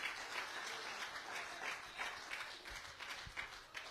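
A church congregation claps as an offering of praise to God, steady broad applause at a distance, fairly faint, with scattered louder claps near the end.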